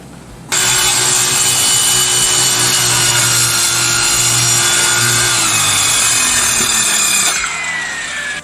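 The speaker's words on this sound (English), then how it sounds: "I'm going to use a skill saw for the straight section" Skilsaw circular saw ripping a straight cut through plywood for a mini quarter pipe ramp, a loud close whining motor roar with grinding blade bite lasting about seven seconds, then spinning down.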